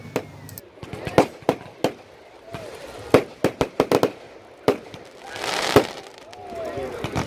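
Sharp cracks and pops of Bonfire Night fireworks at a big bonfire display ring out in irregular clusters, some close and loud, with a crackling burst near the end and people talking in the background.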